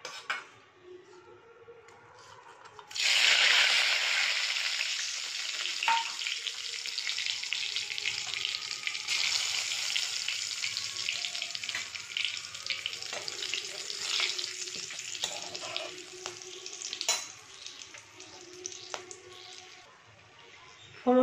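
Whole spices tempering in hot oil left from frying katla fish for kaliya, a sudden loud sizzle that bursts in after a quiet start and crackles steadily for nearly twenty seconds with occasional utensil clinks.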